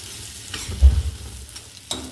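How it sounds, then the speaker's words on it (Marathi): Masala for a ridge gourd curry sautés in a pan, a soft sizzle broken by a brief scraping stir near the middle and another light scrape toward the end. "हे छान आपण असं परतून घेऊ"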